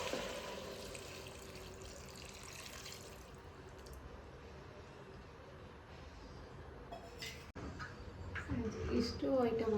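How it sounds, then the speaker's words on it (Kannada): Water pours into a pressure cooker holding dal, onion and tomato for spinach sambar, a steady rushing splash for a few seconds that fades into quieter kitchen noise, with a voice speaking near the end. "ನೀರು ಹಾಕೋತೀನಿ."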